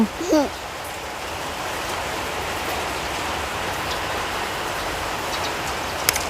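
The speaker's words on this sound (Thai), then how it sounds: "ฝนตกแบบเสียงดังมาก" Heavy rain pours down steadily, a dense, loud, unbroken hiss on nearby surfaces, with a brief voice at the very start.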